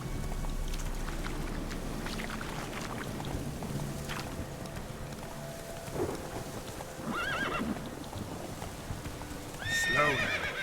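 Horse hooves clip-clopping on a road in The Witcher 3, a steady rhythmic trot under faint rain and ambient game sound, with a whinny near the end.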